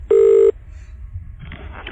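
A single short electronic ring tone on a phone line, heard as a caller is rung back, followed by a faint line hiss and a little noise.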